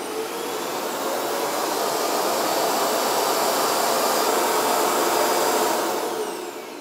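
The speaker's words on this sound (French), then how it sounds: "en appuyant sur le bouton qui est ici, de vider le contenu de l'aspirateur dans le bac à poussière de la base" A Proscenic M9 robot vacuum empties its contents into the dustbin in its base with a loud, steady, airy whir. The suction runs for about six seconds, close and unbroken, then starts to wind down.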